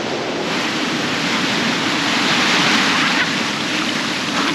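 Ocean swell rolls in over a rock pool on a remote island. A steady, loud rushing wash of surf fills the whole span, close by, with wind buffeting the microphone throughout.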